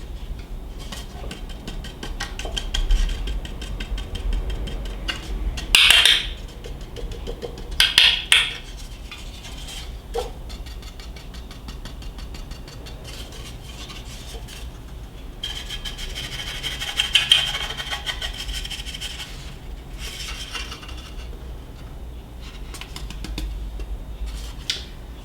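Flour scrapes and rattles around inside a buttered metal cake pan for a sourdough Easter bunny cake, soft rubbing with a few sharper clinks and shakes, heard close up with no talking.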